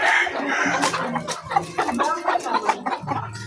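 Chickens clucking in a backyard flock, a steady run of fowl calls with a rooster-like crow mixed in, close and fairly loud, with a voice talking over parts of it.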